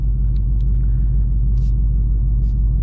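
A 2024 Mustang GT with a 6-speed manual gives off a deep, loud, continuous engine rumble at a fairly steady pitch, heard close from inside the car.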